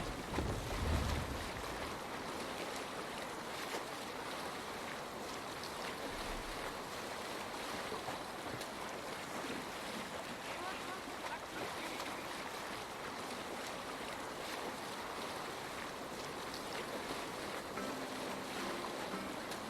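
A sailing ship out on the waves in Assassin's Creed Valhalla, with a soft, steady wash of water and wind hissing continuously at low volume, no voices.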